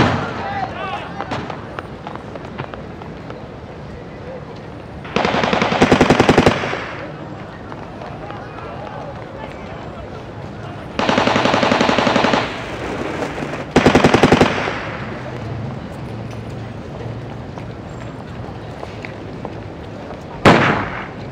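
Bursts of machine-gun and rifle fire in wartime street fighting during the 1944–45 liberation of Europe, loud volleys of a second or so repeating several times over a steady background rumble.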